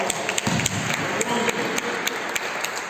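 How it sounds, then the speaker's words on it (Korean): A church congregation claps together during a Korean Sunday worship service, a steady patter of many hands with sharper individual claps standing out, moderately loud and filling the room. "하나님께 영광의 박수 올려드리겠습니다."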